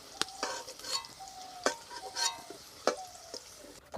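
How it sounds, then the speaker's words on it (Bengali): Diced potatoes fry in a pan for a puffed-rice ghonto dish, with soft stirring scrapes and clinks of a utensil against the pan over a faint sizzle, close by and without talk. "এবার যে ছোট করে ডুমো ডুমো করে আলুগুলো কেটে রেখেছিলাম এগুলোকেও ভেজে নেব"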